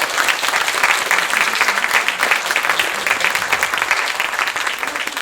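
Sustained audience applause for students and their teachers at a French middle-school performance, a dense, steady wash of many hands clapping close by for about five seconds with no talk over it.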